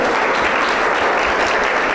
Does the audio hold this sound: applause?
yes